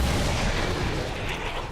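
Gunfire from a pistol shot in XCOM Long War 2, heard as a loud, dense, booming blast with a rumbling tail that stays heavy for under two seconds, with no voices.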